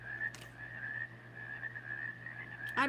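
Frogs croak and trill at night outdoors, a continuous high chirring chorus heard faintly from a distance, with a low electrical hum underneath and a brief brighter call at the very end.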